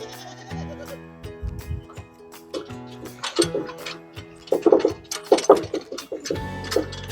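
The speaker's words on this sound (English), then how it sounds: "I hear you, goats." Several goats bleat in bursts, some close and loud, with a steady ticking clock and other faint background noises underneath.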